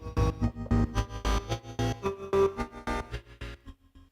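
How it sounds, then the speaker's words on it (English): A rhythmic synth tone shaped by a drawn LFO, pulsing in uneven swells, its volume and brightness rising and falling in a repeating shaped pattern, with no voices. "So this is the sound of this shape."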